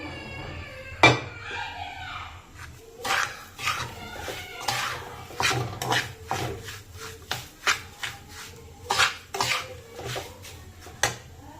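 Fried potato, onion and chilli being added to toasted semolina in a pan, with a spatula clattering and scraping in irregular knocks, close and distinct against a quiet background.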